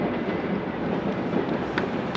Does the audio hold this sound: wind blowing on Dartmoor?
no